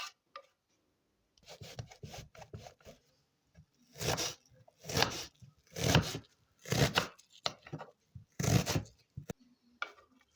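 An onion is chopped finely with a knife on a board for a Lebanese shanklish salad, heard as bursts of rapid, close taps and rubbing strokes separated by short pauses, with no voices.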